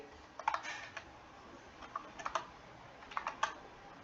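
Someone types on a computer keyboard in short bursts of crisp key clicks separated by pauses, close and clear against a quiet room hiss.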